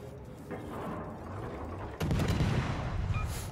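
Naval guns of the British Tier IX destroyer HMS Jutland fire in World of Warships, a muffled run of booming shots that turns louder and denser partway through, with rolling battle rumble underneath.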